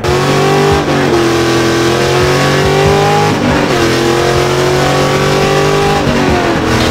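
A Nissan 300ZX fitted with an LS1 V8 engine revs hard and loud, a close, continuous roaring drone that rises and falls through several gear changes, with no talking.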